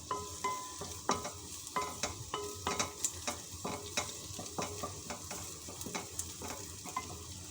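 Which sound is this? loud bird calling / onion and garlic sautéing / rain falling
onion and garlic sautéing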